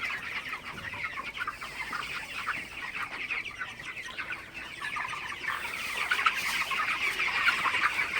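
A large flock of 30-day-old broiler chickens clucks and chirps continuously, a dense overlapping chatter that swells slightly toward the end, with no talking.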